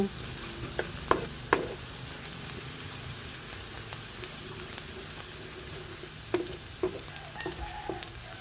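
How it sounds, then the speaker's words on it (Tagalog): Garlic and onion sauté in a pan with a soft, steady sizzle, punctuated by a few sharp spatula clinks and scrapes near the start and end; fairly quiet, no talking. "nailagay ko na po itong bawang at sibuyas at akin na pong iginigisa"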